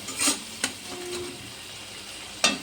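Fish masala is stir-fried in a pan with salt added, giving a soft low sizzle under a few sharp spoon-against-pan knocks spaced irregularly across a short, close span, with no voices.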